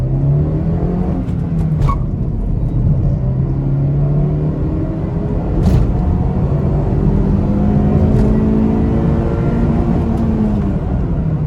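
A Honda City i-VTEC engine heard from the cabin, revving as the car accelerates, its tone rising and falling across gears over a constant low road rumble.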